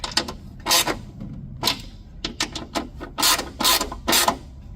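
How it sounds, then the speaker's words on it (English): A hand ratchet tightens bolts during a supercharger kit install on a 1999–2005 Mazda Miata, giving bursts of quick metallic clicking in several short runs with brief pauses between strokes, close and distinct with no talking. "So I'm gonna get my ratchet."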